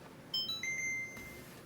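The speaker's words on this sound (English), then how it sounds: "There's our timer." A kitchen oven timer beeps while scones bake at 350 degrees, a short series of faint electronic beeps ending in one longer held tone in a quiet room.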